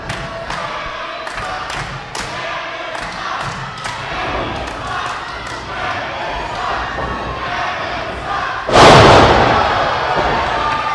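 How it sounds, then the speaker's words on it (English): A wrestling crowd roars and chants steadily through a match, with a heavy slam-like burst near the end and a commentator talking over the din. "A nice chant from the crowd."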